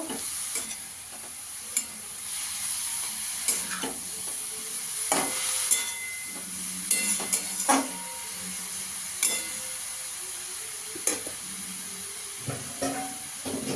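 Ginger and green chilli paste stirred into a sizzling shrimp curry with kohlrabi, a spoon scraping the pan in irregular strokes over a steady frying hiss, close and fairly quiet.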